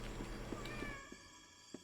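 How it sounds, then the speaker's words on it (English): A pet cat in a video game gives a few short meows over a steady game soundtrack, with faint soft tones trailing between the calls. "This cat has absolutely no reason for existing other than to pet."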